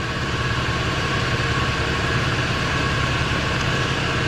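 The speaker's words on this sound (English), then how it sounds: "I cannot believe it's sitting here idling" A forgotten Buick Riviera's engine idles steadily at close range, a continuous low rumble with an even throb and no voices.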